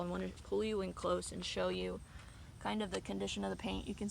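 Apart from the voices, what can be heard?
No everyday noise stands out behind the speech.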